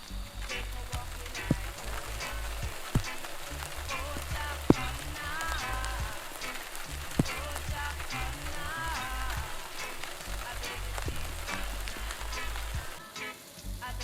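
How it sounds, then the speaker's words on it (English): Steady light drizzle of rain at an outdoor campsite, a soft continuous patter of drops with occasional louder single drips, no voices. "And of course the drizzle."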